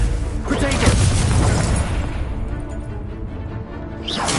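A Confringo fire spell exploding in the video game Hogwarts Legacy, a loud booming blast with crackling debris that rumbles on for several seconds, a voice shouting over it.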